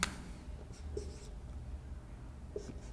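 Chalk or marker strokes on a board during a Hindi-language water and wastewater engineering lecture, a few brief scratchy marks spread over a quiet room with low background hum and no speech.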